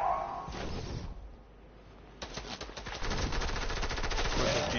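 Rapid automatic gunfire in a video game, a fast rattling stream of shots that starts midway and grows louder and denser, over a noisy game background.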